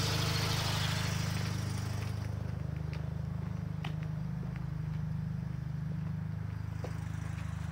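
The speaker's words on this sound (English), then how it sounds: "Hopefully my car will stay idling." A 1990 Mazda RX-7 FC rotary engine, fitted with a Haltech management system and a BNR stage 4 turbo, idles with a steady, pulsing low rumble. A few faint clicks and taps sound nearby.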